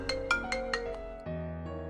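A phone ringtone from the video game AI: The Somnium Files plays a quick run of bright chiming notes, followed by a sustained electronic tone that shifts pitch, clear and alone.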